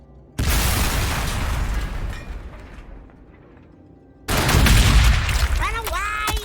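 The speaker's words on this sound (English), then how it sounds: "Crack grenade." A crack grenade detonating in the strategy game Warhammer 40000 Sanctus Reach gives a loud sudden blast that decays over a few seconds, followed by a second burst of explosive gunfire-like crackle with whining tones near the end.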